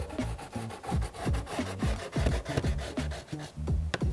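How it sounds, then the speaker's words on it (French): A pencil or chalk is drawn along a ruler to mark a straight line on trousers for a machine hem, giving close, rhythmic rubbing scratches in short repeated strokes, with no talking. "Prenez la règle et on va venir tout simplement faire une ligne droite au"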